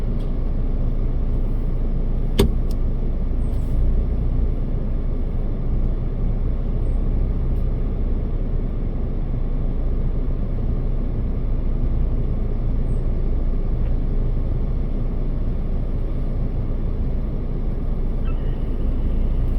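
A vehicle's engine idles in neutral while shifting into four-low, a low, steady rumble with one sharp click near the start and otherwise unchanging.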